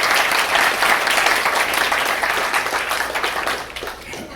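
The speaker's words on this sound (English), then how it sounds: "So I'd like you to give her a big round of applause, Gabrielle Gun." An audience at a keynote meeting applauds steadily, a dense wash of clapping that holds strong and then tapers off toward the end.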